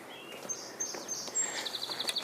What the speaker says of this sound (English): Just heard a song sparrow singing.